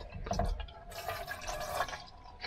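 Water is poured into a pot for heating inside a camper van in a state forest, a splashing, gurgling fill with a few drips, close and moderately loud.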